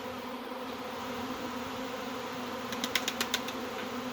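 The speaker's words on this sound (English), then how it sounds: "that's a massive swarm of bees" A massive honey bee swarm drones steadily and continuously close by, with a short burst of sharp clicking taps joining toward the end.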